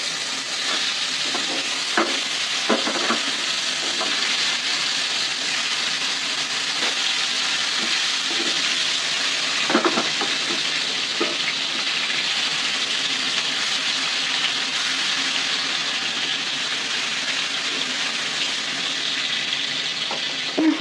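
Koi fish frying together in plenty of oil in a frying pan, a dense steady sizzle throughout with occasional spatters and utensil knocks, close and even in level, no talking.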